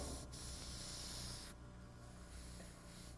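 White paint hisses from a sprayer in a steady rush that is louder for the first half and then settles into a softer, continuous spray, with no talking.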